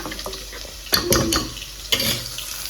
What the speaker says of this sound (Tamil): இப்போ வந்து இது நல்லா வதங்கணும்